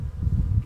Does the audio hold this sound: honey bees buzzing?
yes